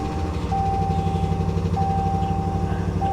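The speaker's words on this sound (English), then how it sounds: "The engine was tapping a little bit there." Repossessed rental truck idling close by with a light tapping in the engine, a steady low rumble under a thin continuous electronic beep.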